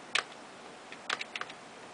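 Keys on a computer keyboard shared between several computers tap in a few short, close clicking bursts separated by quiet pauses.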